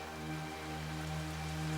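Heavy rain falls in a continuous dense hiss, with a steady low hum beneath it, brief and unbroken.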